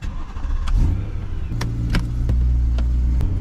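A BMW M3 engine idles with a low, steady drone that rises into a louder sustained hum, close and continuous, with a few sharp clicks or knocks over it.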